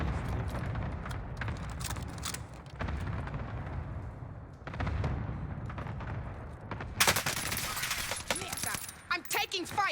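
Rapid STG-44 rifle bursts and other gunfire crackle through a chaotic online shooter battle, repeated volleys layered under radio chatter and game voice lines, with a sharp close burst near the end.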